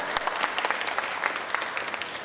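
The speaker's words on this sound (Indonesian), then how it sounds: "tepuk tangan dong untuk Ibu Ririn" An audience at a marketing-week event applauds for a woman asked to stand, a dense, steady burst of many hands clapping close by, with no talk over it.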